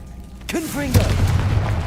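Confringo fire spell going off in Hogwarts Legacy: a sudden punchy boom about halfway in, trailing into a rumbling blast while someone speaks over it.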